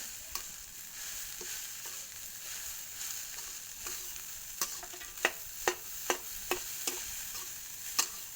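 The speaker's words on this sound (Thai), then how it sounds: "เสียงเชฟกระทะมาแล้ว" Rice stir-frying in a wok with a steady sizzle, punctuated by sharp metallic clacks of a spatula striking the pan, growing more frequent toward the end.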